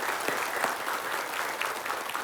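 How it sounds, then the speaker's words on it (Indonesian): Studio audience at an Indonesian religious television talk show applauding a guest, a brief, even wash of many hands clapping at moderate distance. "Langsung ya tepuk tangan untuk Risya Antika."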